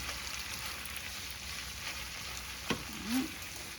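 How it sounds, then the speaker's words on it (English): Pasta tossed in a pan with garlic and bacon gives a quiet, continuous sizzle, with a brief scrape or clatter of the pan near the end. "We're just going to get that all tossed in and coated with that garlic"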